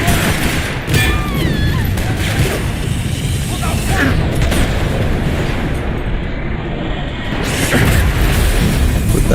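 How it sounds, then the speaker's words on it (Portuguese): Gunfire in the video game Max Payne 3 rattles in dense, loud bursts of shots and impacts over sustained battle noise, with voices talking over the shooting. "Avancem e continue atirando!"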